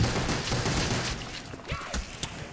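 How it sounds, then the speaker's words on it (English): Pistol gunfire in the video game Call of Duty: Black Ops, a dense run of loud, close shots and impacts with a busy game background and no pauses between them. "This is just me, level 1, shooting some pistols."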